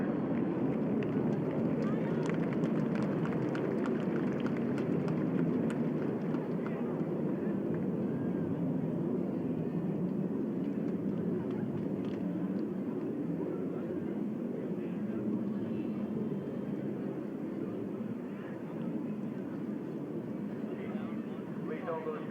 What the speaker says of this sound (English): Another free flyover from the South Dakota Army Air National Guard.